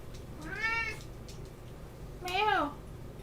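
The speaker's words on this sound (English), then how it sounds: "my cat was entering the room" A pet cat meows twice as it comes into a room, each meow a drawn-out, rising-then-falling call about two seconds apart, close and clear over a low steady background hum.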